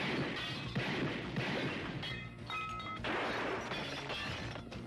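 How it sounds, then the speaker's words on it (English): Glass shattering during a big-budget action film shootout, dense crashing and breaking debris spread across several seconds, loud and busy with clattering shards throughout. "Something glass has to break every time."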